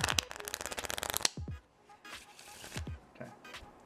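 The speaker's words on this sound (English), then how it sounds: "Let's give them a shuffle." A deck of playing cards riffle-shuffled close up: a rapid burst of fluttering card snaps, then a few sharp bridging flicks and soft taps as the deck is squared.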